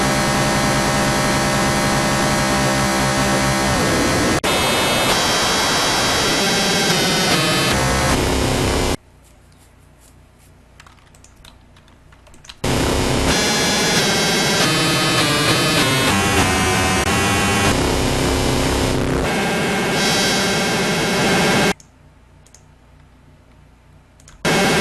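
Harsh synthesizer noise, pink and white, roars loud and dense in long sustained blocks with abrupt cutoffs and brief quieter gaps, shifting texture and pitch between bursts.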